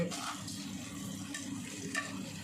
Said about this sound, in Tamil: வெண்ணெய் ஊற்றிட்டோம் ஒரு துண்டு பட்டை கல்பாசி